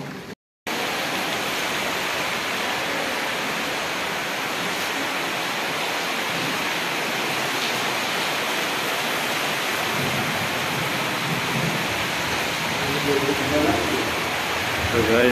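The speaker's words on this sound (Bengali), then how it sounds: "বাইরে বিশাল বৃষ্টি হচ্ছে, দেখো।" Heavy rain pours onto a rooftop terrace with a loud, continuous hiss and roar, after a brief silent gap at the start. A voice speaks over the downpour.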